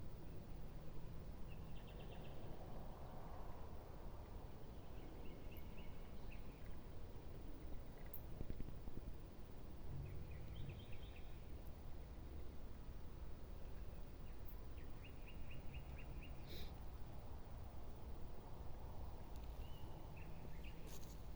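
Faint outdoor night ambience with scattered bird calls and chirps over a low steady background hiss, spread thinly across a long calm stretch.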